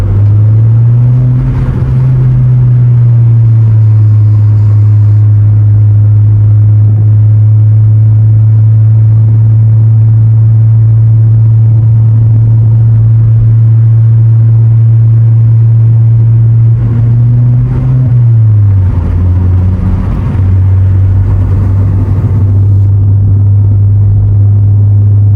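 VW Polo 1.2 TSI (66 kW) engine droning loudly and steadily from inside the car as it accelerates up a dangerous mountain road, with a sustained low hum that dips briefly around a gear change.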